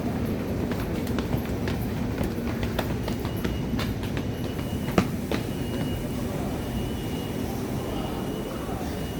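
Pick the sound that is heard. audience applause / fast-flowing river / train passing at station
train passing at station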